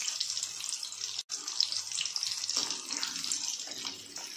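Chicken popcorn fries in oil on a low flame, a steady close hiss and crackle of bubbling with a brief gap and slight shifts in intensity, no talking.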